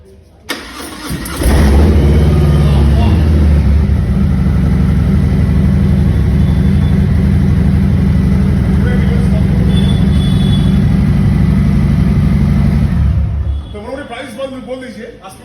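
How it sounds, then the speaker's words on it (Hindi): A fully serviced superbike engine fires up and settles into a loud, deep, steady rumble held for about twelve seconds before cutting off, heard up close with faint voices around it. "स्टार्ट करके साउंड सुना दीजिए सर"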